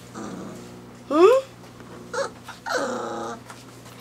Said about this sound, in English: Who's growling?